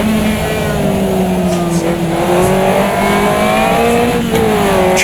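A Caterham racing car in the game Automobilista 2 holds fourth gear through the Gooseneck at Cadwell Park, its engine a loud, continuous buzzing drone that rises and dips slightly in pitch with the throttle.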